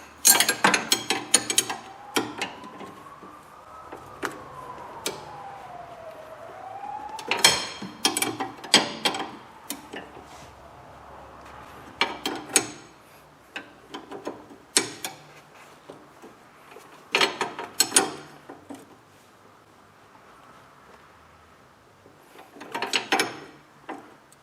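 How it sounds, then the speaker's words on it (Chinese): A bolt being tightened on the front suspension of an Audi A4 B8 during a stabilizer link replacement, heard as bursts of rapid ratchet clicks and metallic taps separated by quiet pauses. "咱们现在把底下这个螺丝给它加固起来"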